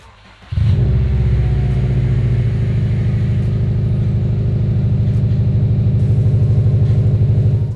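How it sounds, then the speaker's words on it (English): A rebuilt Subaru STI engine cranks and catches on its first start after a half-second pause, then settles into a loud, steady, rumbling idle that continues without pause. "All right, you heard it, car fired right up."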